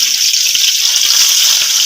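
Cumin seeds and bay leaf sizzle in hot oil for a Masoor Masala tempering, a loud, steady crackling hiss with small pops throughout.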